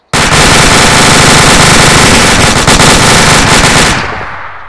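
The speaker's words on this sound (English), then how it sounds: "now I want you to reacquire your targets and fire off a few bursts again" An automatic rifle, deployed on its bipod in the ArmA 2 military game, fires continuous loud bursts with dense, rapid cracks lasting about four seconds before the shots stop and a brief tail fades out.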